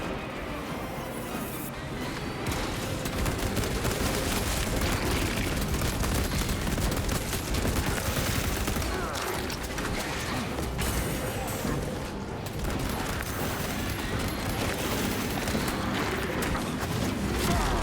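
Dense, continuous heavy bolter fire and battle noise from Warhammer 40k: Space Marine 2, loud and sustained throughout with mechanical clatter mixed in.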